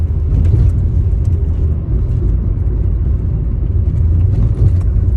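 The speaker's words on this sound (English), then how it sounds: "that was quite a hard pothole there" A car rolls along a potholed road with a steady, loud low rumble of tyres and engine from inside the cabin, with no distinct single jolt standing out.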